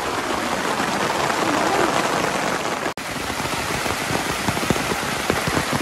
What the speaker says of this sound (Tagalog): palakas ng palakas yung ulan